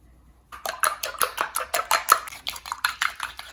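An egg yolk is whisked in a bowl while egg garnish is prepared for Korean japchae. After a brief quiet start, rapid, evenly spaced clinks and scrapes follow one another close by in a steady rhythm, with no talking.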